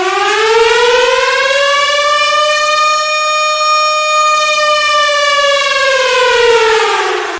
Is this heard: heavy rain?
no